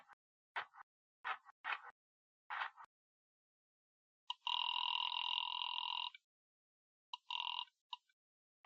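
Telephone sounds in an old-time detective radio drama: a series of short clicks and rattles like a rotary dial being worked, followed by a long two-tone ringing burst and a shorter ring, fairly faint and with no talk.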